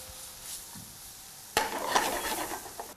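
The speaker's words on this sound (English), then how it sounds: "started by sauteing some onions and garlic in a non-stick pan" Onions and garlic sauté in a non-stick pan: faint quiet sizzle at first, then a sudden louder burst of frying hiss and scraping stirs that continue to the end.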